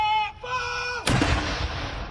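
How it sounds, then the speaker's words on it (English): An artillery gun salute for Queen Elizabeth in London's Hyde Park, part of a 96-round tribute, with one sharp, loud cannon blast cutting through a tonal background and echoing afterward. "A shot fired for every year of Queen Elizabeth's life."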